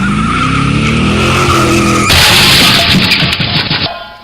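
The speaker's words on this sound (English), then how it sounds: "A car crash on Route 222." A car skids with loud, sustained tire squeal that breaks into a crunching crash partway through, then the noise fades out.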